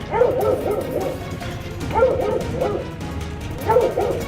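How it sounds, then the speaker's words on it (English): Hunting dogs bark and bay at a black bear treed in the woods, with three loud bursts of barking spaced a couple of seconds apart at moderate distance. "Dogs are showing treed."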